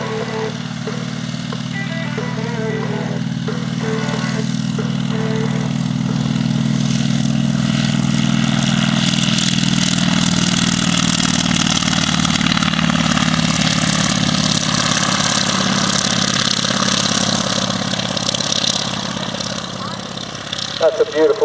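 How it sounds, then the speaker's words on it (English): A CAC Wirraway's big round radial engine idles on the ground at the Serpentine Air Race, a loud throbbing rumble that grows and holds steady, close by, with a commentator talking over it. "We often refer to that as the sound of round, big round radial engine on the ground"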